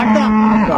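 A dairy cow at a cattle market gives one short, loud, close moo that holds a steady tone before tailing off.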